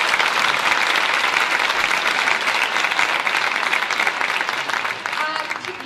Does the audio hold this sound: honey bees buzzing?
no